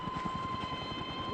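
A military rescue helicopter near a volcanic eruption zone thumps with a rapid, steady rotor beat and engine whine, heard at moderate distance without voices.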